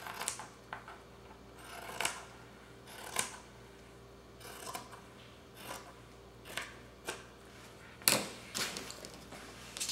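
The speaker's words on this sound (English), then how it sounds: "I'm cutting down about 7 inches and then cutting straight across" Scissors snipping through fabric while a pillow is being sewn, a series of crisp separate cuts spaced a second or so apart, close and fairly quiet, with one sharper snip near the end.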